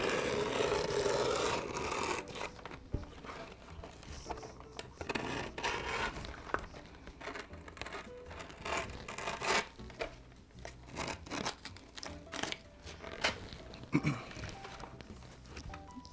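A knife scrapes and slices through skateboard grip tape, making a continuous rough rasping and scratching with irregular strokes, close and moderately loud, no voices.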